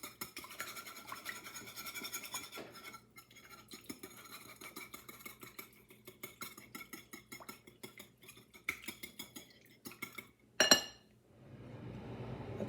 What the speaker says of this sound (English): I'm going to mix those, whisk them together